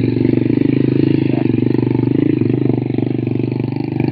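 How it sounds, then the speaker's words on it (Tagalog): Motorcycle engine pulling uphill on the road to Mount Balagbag, a close, steady, throbbing drone with fast even pulses and slight swells in load. "Ito guys, oh, mga ganyang motor."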